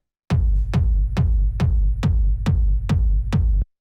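An industrial techno kick drum with no pitch envelope thumps eight times in a steady, evenly spaced pulse, each hit a deep, booming low thud with a short decay, loud and alone.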